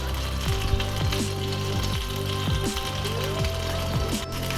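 Pav buns fry in a pan on low heat with a steady, close sizzle, crackling and popping throughout with faint clinks.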